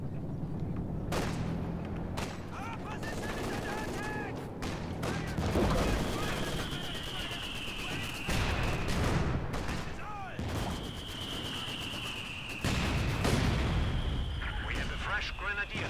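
Mortar and artillery fire in Company of Heroes 2 during a 2v2 match: repeated heavy booms and blasts scattered through a dense battle din, with a commentator talking throughout.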